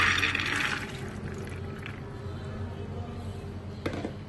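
Water splashes and trickles out as it is drained from soaked chana dal lentils, then fades into a low steady rushing background with a faint clink near the end.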